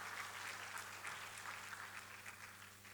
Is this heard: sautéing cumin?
no